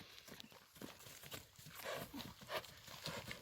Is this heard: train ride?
no